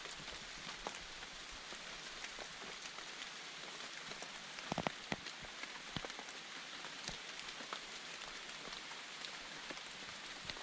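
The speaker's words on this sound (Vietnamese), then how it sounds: "Trời đang mưa." Steady rain falls outdoors on a rural trip to gather gac fruit, an even, close hiss of drops with occasional louder splats, and no voices.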